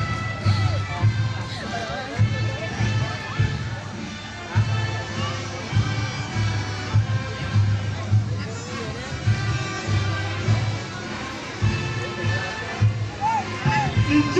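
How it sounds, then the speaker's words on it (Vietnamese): A large crowd at a football match roars and cheers continuously, a dense babble of many voices with scattered shouts rising above it. "Chúng ta hãy dành cho Hương Long một tràng vỗ tay"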